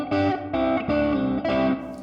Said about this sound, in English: This reverb pedal doesn't have a length adjustment to it